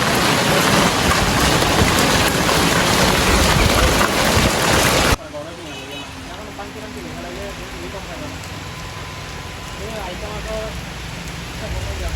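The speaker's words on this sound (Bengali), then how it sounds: "এখন আবার বৃষ্টি শুরু হয়ে গেছে" Heavy, loud rain hisses steadily at a market for about five seconds, then cuts to a quieter scene with faint voices and background noise.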